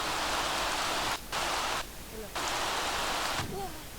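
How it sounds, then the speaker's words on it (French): Rain in the video game The Sims 3, a steady loud hiss of heavy rainfall with brief pauses and shifts in level, and a voice speaking softly underneath. "on est dans la maison et on entend la pluie"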